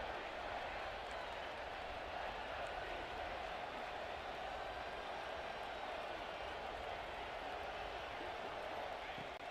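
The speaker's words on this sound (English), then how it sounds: "This crowd is trying to inspire this defense to make a big red zone stop." Steady roar of a large football stadium crowd cheering and making noise to rally the home defense before a red zone stop, a dense wash of voices holding at an even level throughout.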